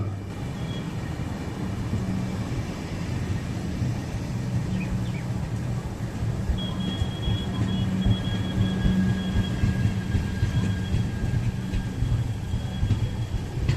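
The Erode–Jogbani Amrit Bharat Express, an RCF-built train, runs with a steady low rumble and rattle heard from inside, broadband and continuous throughout, with a faint thin whine appearing midway.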